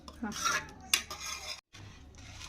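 Spoon stirring sambar in a metal pot after coriander goes in, a few clinks and scrapes against the pot's sides over a low kitchen hum.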